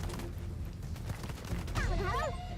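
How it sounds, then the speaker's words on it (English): AK-47 gunfire in the fantasy game Weird RPG 2, a dense, steady burst of shots with game effects filling the whole stretch, while a voice shouts excitedly over it toward the end. "Killed him with the AK."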